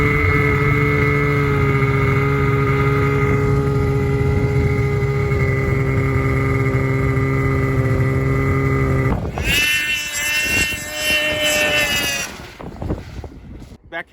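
Polaris 850 snowmobile engine with a Speedwerx L2 lightweight muffler, a loud steady droning hum up close for several seconds, then a harsher, rougher burst of revving that fades out.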